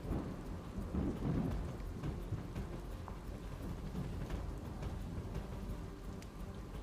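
Heavy rain pours steadily during a storm in Junagadh, with thunder rumbling low beneath the dense hiss of the downpour and no voices.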